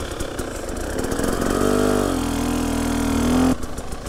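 A moped engine climbs a slope under throttle. It hums at first, then swells into a loud, sustained rev for about two seconds before cutting off abruptly.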